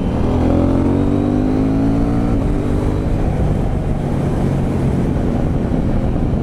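A KTM 790 Duke motorcycle accelerating hard, its engine note climbing steadily in pitch as it pulls, loud and close, mixed with wind rush and no talking.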